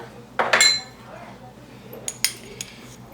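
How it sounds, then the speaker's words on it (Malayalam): A spoon clinks against a bowl while chilli, turmeric and other spice powders are mixed for Kerala-style lemon pickle: a few bright metallic taps close together, then a scattered handful more, in a quiet kitchen. "എല്ലാ പൊടീസും നമുക്ക് മിക്സ് ചെയ്യാം കേട്ടോ."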